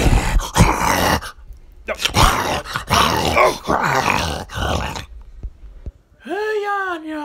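A dog growls and yips at a puppet amid loud, animated talk, followed near the end by a clear whining vocal, all close and fairly loud.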